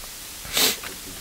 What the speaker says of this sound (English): Oh, this is what happens when you sneeze and you're doing this.